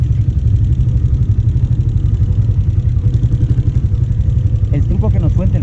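Motorcycle engine running steadily at low speed through a zigzag practice course, a continuous mid-pitched drone with clattering pulses, close and loud throughout.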